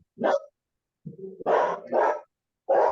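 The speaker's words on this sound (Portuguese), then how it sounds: "Quem latiu? Oh, o cachorro." A dog barks four times in short, loud bursts, close by, with quiet pauses between the barks.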